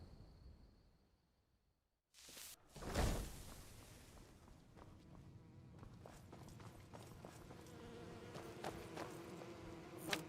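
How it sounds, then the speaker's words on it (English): Insects buzz in a Skyrim VR game world, a low, faint hum of several bugs that rises and falls after a brief pause, with some soft clicks and thuds mixed in. "So many fucking bugs in here"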